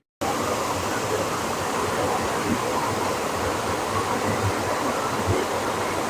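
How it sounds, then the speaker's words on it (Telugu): Vandanapalli hidden waterfall in Andhra Pradesh, three streams falling at once, roars as a steady, dense rush of water, loud and close with no break throughout. "సో నా వెనకాల చూడండి గైస్, ఒకేసారి 3 వాటర్ ఫ్లోయింగ్ కనిపిస్తుంది కదా"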